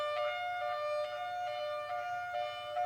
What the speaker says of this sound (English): In a rare instance, there's a high-low sound, which is sometimes used for fires